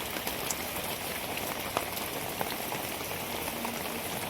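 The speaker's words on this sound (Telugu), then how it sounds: "ఇది అసలైన వర్షం" Heavy monsoon rain pours down in Karimnagar, a loud, dense, unbroken patter of drops on surfaces close by, with a few sharper splashes and no talking.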